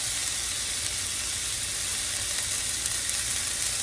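Lima beans and fresh onions, with corn, sauté in a pan, giving off a constant, even sizzle that stays loud and close from start to finish with no talking.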